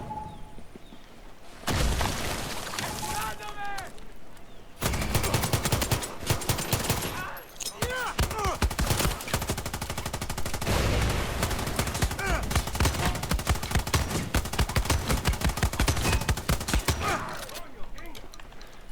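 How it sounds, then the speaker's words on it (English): Video game explosions and gunfire burst in dense volleys of rapid shots and booms, near and loud, with brief lulls between bursts. "Let's get a couple of explosions on the go and see how it handles that."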